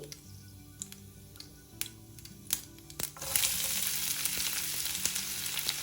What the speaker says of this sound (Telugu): ఆవాలు చిట్టపట్టమన్నాక ఇప్పుడు ఉల్లిపాయ ముక్కలు వేసుకోవాలి.